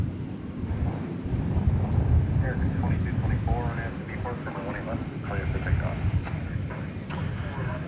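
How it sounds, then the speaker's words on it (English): An Airbus A321 on flight 2224 to Portland, Oregon takes off from DFW Airport at night, a steady engine rumble running beneath someone talking throughout. "Running flight 2224 to Portland, Oregon. Airbus A321."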